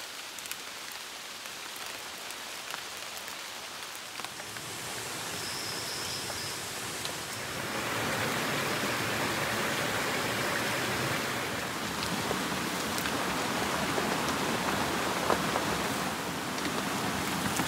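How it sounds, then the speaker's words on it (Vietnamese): Steady light rain falls outdoors in a rainforest, a constant hiss of drops on leaves and surfaces that swells slightly louder partway through, with no voices. "vẫn mưa rả rích nha"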